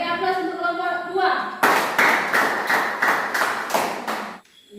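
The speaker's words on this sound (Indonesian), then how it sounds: "beri aplaus untuk kelompok 2" Classroom applause for a student group: after a brief voice, a steady run of loud group clapping comes in roughly even bursts, then cuts off.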